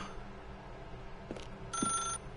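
A telephone rings in the video game The Stanley Parable, with a faint electronic bell trill breaking through a low steady hum, quiet and brief near the end.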